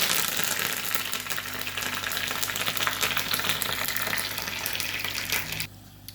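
Curry leaves hit hot oil for a tempering, giving a loud, steady crackling sizzle that fills the kitchen for several seconds before cutting off abruptly.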